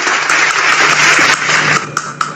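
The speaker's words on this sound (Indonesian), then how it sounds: "tepuk tangan dulu yang meriah" An audience at a religious talk breaks into lively applause, giving a dense, loud burst of clapping that thins out toward the end.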